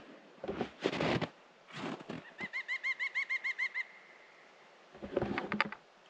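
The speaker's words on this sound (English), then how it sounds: "I just heard a woodpecker." A woodpecker calls in a rapid, evenly spaced series of about a dozen sharp notes in a snowy forest, set between louder rustling, flapping bursts.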